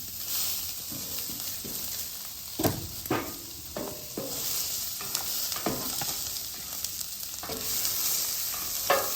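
Mushrooms sizzle steadily on a flat-top griddle for steak fried rice, with repeated scraping and stirring strokes from a spatula cutting through the frying hiss at close range.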